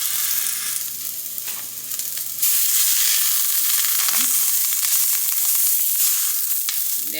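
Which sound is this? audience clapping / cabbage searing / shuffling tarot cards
cabbage searing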